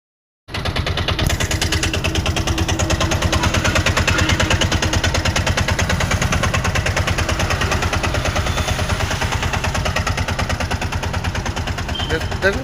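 A second-hand Bajaj passenger auto rickshaw engine starts and runs with a fast, steady, close-up thumping beat. The loud, regular pulses continue evenly for about twelve seconds.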